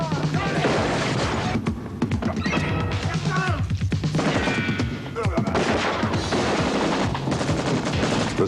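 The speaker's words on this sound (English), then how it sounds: "The spectacular gun battles in Raw Deal were accomplished by long hours of planning and preparation." Dense gun battle from the 1986 action film Raw Deal, with loud overlapping bursts of automatic fire, crashes and impacts running continuously through the scene, mixed with shouts.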